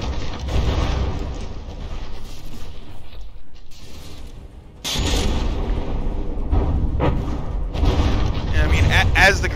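Naval gunfire in the From the Depths battleship game strikes a warship and blows off an entire turret, heard as dense booming and grinding mechanical noise with loud bursts over a constant low roar.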